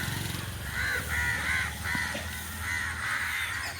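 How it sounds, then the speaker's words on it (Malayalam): A crowd of crows caws loudly and repeatedly, the harsh calls overlapping in bursts with no break, close by and outdoors. "എല്ലാം കാക്ക കരച്ചിലായിരുന്നു."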